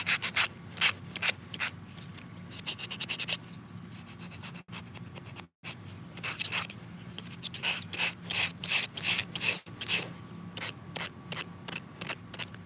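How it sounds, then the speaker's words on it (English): Hand beveling of edges on a small wooden part for a miniature scratchbuilt chair, heard as close, repeated rubbing and sanding strokes in quick bursts with a couple of brief pauses and no talking. "I'm gonna bevel these edges."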